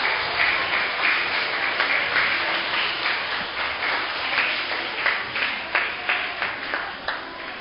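Group of grade 6 students clapping together at a church school program, a dense, steady wash of applause with distinct individual claps punctuating it throughout, fairly loud and close, with no voices over it.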